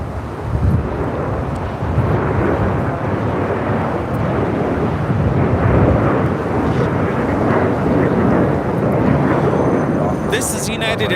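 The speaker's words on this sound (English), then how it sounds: "This is United Airlines 2237 taking off to Houston Intercontinental on the 737-900ER" United Airlines Boeing 737-900ER jet taking off at LAX, a loud sustained broadband roar with wind buffeting the microphone, steady for about eleven seconds.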